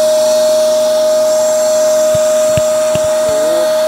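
A vacuum cleaner runs steadily while napier grass silage is being made, giving a constant whining drone with a few soft knocks and clunks near the end.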